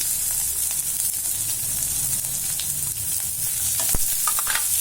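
Ginger sautéing in a pan: a continuous close sizzle with a low hum underneath, occasional scraping strokes and a sharp clack of the spoon near the end, no voices.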